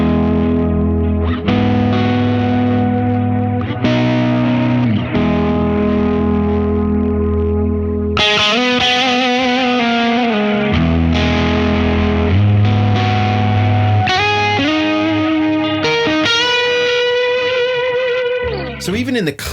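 Distorted electric guitar chords and sustained notes ring out with lush reverb and echoing delay, playing steadily and loudly throughout with no talking.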